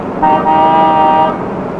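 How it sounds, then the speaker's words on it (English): A loud car horn blares in one sustained honk lasting about a second, close by, over low road noise. "The heck is he honking at?"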